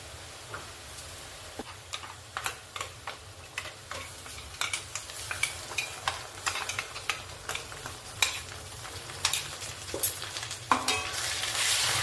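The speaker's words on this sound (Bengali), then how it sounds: "এবারে আমি আদা রসুন পেস্টটা দিয়ে দেবো" Onions fry with ginger garlic paste in a pan for bhuna chicken: a steady close sizzle runs throughout, broken by frequent ticking scrapes of stirring that grow busier toward the end.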